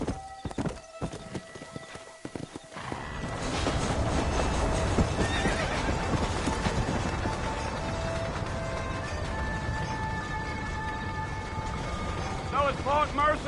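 A horse in the Western video game Red Dead Redemption trots with steady clip-clopping hooves and gives a clear whinny, set against sustained game music at moderate volume.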